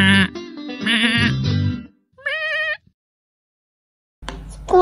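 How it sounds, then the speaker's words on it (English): Cartoon sheep bleating in the Hey Duggee music game, several loud, close, wavering bleats at different pitches, each short and separated by brief silences, like playful musical notes, with no talking. "Let's try and make music by playing the sheep."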